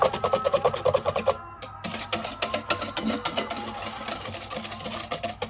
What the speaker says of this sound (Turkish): Ve bunu iyice çırptım.